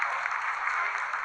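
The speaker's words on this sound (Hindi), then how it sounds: "Lot of applause indicates that till now the performance has been nominal." Steady sustained applause fills mission control during the Chandrayaan-3 moon landing, a dense roomful of clapping with no pauses.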